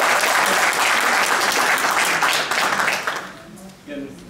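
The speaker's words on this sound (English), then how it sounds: "Again, please no applause." Audience applauds at a community college district board meeting on Sherbeck Field improvements, a dense, loud burst of clapping that holds steady for several seconds, then thins out near the end as a voice begins to speak.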